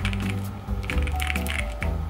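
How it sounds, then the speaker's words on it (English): Typing on a Higround Barebone keyboard fitted with Cerakeys keycaps, struck with long nails, gives a steady run of close, clicky keystrokes over a low background hum. "it's gonna kind of change up the sound of the keys when I type into them"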